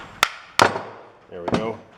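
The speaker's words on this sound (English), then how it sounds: "Let's just use a real hammer." A hammer strikes the tight brake pads on a Chevy Silverado rear brake job, giving three sharp close metallic whacks, the last ringing briefly.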